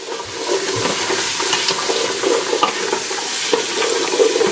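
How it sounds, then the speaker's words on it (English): Onion fries in oil over medium-high heat for a curry, a continuous close sizzle with soft scraping as it is stirred around the pan. "Basically just stirring it around like this to make sure the oil gets everywhere"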